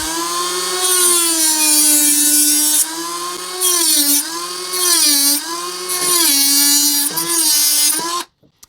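A power tool cuts through PVC pipe with a loud, whining buzz that rises and dips in pitch over several strokes as the blade bites and eases, then stops abruptly.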